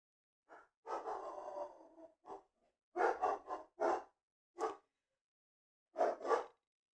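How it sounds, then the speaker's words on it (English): Dogs barking outside, several spaced rounds of sharp, moderately distant barks, some in quick runs and others single, against a quiet background. "I don't know what they're barking at."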